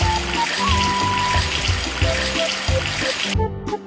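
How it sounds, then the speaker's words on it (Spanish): Cartoon water tap running to fill a bucket in a Snow White and pirates children's video game, a steady broadband rush of water over light background music, ending abruptly near the end. "Primero llena el cubo con agua. Pulsa sobre el grifo de agua."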